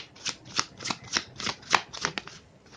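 Tarot cards shuffled by hand before one is drawn, a steady run of about ten crisp riffling swishes, close and fairly quiet, with no talking.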